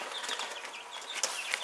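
Young chickens about three weeks old, just getting their feathers, cluck and peep softly in a backyard, a faint continuous chatter of small chirps with no voices.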